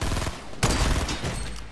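Rapid bursts of video game gunfire in Fortnite Battle Royale, a sharp loud volley of overlapping shots starting partway through and ringing on briefly, with no talking.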